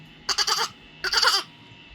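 A goat bleats twice in quick succession, two short wavering cries close by with a brief pause between them and nothing else heard.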